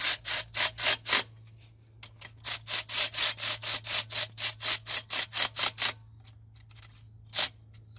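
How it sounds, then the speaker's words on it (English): A ratchet tightens a clamp on a car hose with a quick run of sharp, evenly spaced clicks, a short pause, then a longer steady burst of clicking and one final click, close and loud over a low hum. "We're going to tighten this up a little bit."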